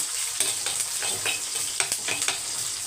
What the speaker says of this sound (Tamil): கடுகும் பச்சை மிளகாவும் நல்லா பொரிஞ்சுதுன்னு வச்சுக்கோங்க